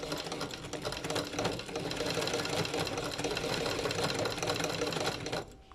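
A sewing machine stitches fabric along a rounded line during a tailoring lesson, with a steady, fast whirring hum that runs close and loud, then stops abruptly near the end.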